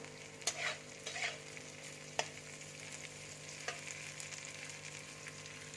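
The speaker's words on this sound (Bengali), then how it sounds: "এবার বেল পেপারগুলো দিয়ে দিচ্ছি, একটু লঙ্কা কুচি দিচ্ছি, দিয়ে ভালো করে ভেজে দেবো" Bell peppers, green capsicum and chopped chili frying for veg chow mein, a steady sizzle running beneath several sharp stirring scrapes of a spatula against the pan, with no voices present.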